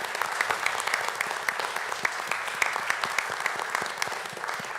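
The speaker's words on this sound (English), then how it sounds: "Applause." Steady applause from a crowd at a town council meeting, dense overlapping claps with sharp individual hits standing out, sustained throughout without any talking.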